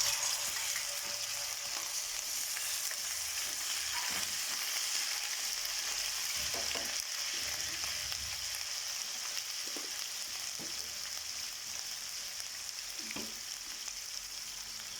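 Hot mustard oil sizzles and crackles steadily as cumin and ginger-garlic paste fry for a kadhi tempering, with occasional soft stirring knocks in the pan and no talking.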